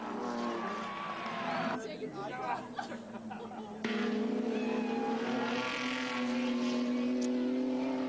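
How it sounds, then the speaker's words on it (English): Holden Commodore touring cars racing at Bathurst in 1985, their engines droning loudly and rising in pitch as they pass, with a commentator talking over the race noise. "Good brakes on these Commodores, and Peter not afraid to use them"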